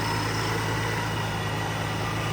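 A Nissan 350Z engine fitted with a Vortech supercharger runs steadily at idle, a dense continuous drone with a low rumble and broadband whine, close and loud with no talk.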